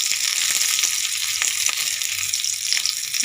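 Green chilies sizzle and crackle steadily in a small amount of hot oil, a close, continuous frying hiss with faint popping, no voices.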